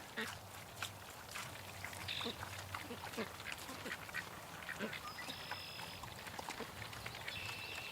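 Ducks dabbling in a swamp, soft splashy bill-drilling and occasional quacks, with a voice talking faintly.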